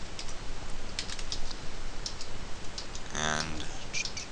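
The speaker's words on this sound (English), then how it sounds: "We're going to type exit." Keys tapped on a computer keyboard to enter a short command, a quick run of close clicks followed by a brief burst of speech partway through.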